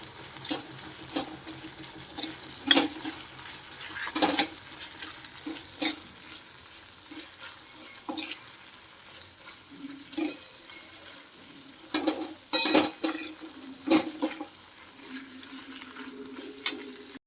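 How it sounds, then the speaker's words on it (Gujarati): Ivy gourd (tindora) curry frying in a pan is stirred with a spoon, giving repeated scraping clinks and clatters over a steady low sizzle, close and fairly loud with no speech. "હવે આપણે સારી રીતે બધું મિક્સ કરીને હલાવી દઈએ"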